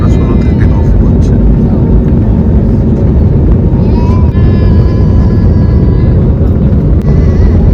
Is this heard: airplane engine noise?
yes